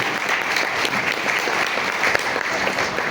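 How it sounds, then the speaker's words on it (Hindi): Short burst of dense audience applause at a direct-selling marketing seminar, steady clapping throughout. "एक बार जबरदस्त तालियां होनी चाहिए"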